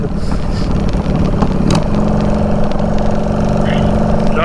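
A Honda Shadow Bobber motorcycle being ridden gives a loud, continuous engine drone mixed with heavy wind rush, steady throughout from the rider's position.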